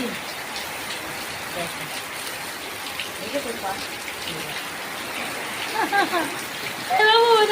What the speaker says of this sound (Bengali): ঘরের ভিতরে বৃষ্টি করছে